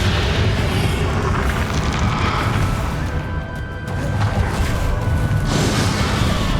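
Fiery explosions from the Confringo spell in Hogwarts Legacy, dense loud booms and crashing blasts running continuously in heavy combat with a thin whining tone in the middle.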